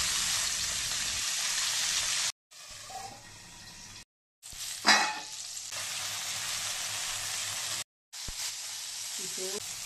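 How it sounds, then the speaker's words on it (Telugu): Large tomato pieces cook in oil in a pan for a spicy Andhra tomato chutney, with a continuous bubbling sizzle, one sharp stirring scrape, and several abrupt cuts to silence. "ఇప్పుడు అదే ప్యాన్లో ఇంకొంచెం నూనె యాడ్ చేసుకొని కట్ చేసుకుని పెట్టుకున్న పెద్ద పెద్ద టమాటా ముక్కలు యాడ్ చేసుకొని వాటిని బాగా మగ్గించుకోవాలి"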